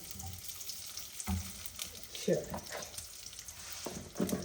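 Ghee sizzles in a pan as it is poured in, a faint frying hiss with scattered clinks and stirring knocks, quiet and close.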